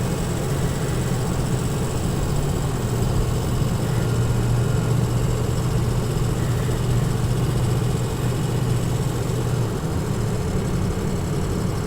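A 2004 Ford Excursion with a 6.0L Powerstroke diesel accelerates through the gears, a steady low engine drone and road noise heard from inside the cabin throughout, with no speech.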